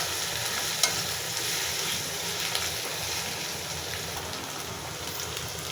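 Ginger paste going into a hot frying pan and being stirred, giving a soft, continuous sizzle with faint scraping, fairly quiet and without talk.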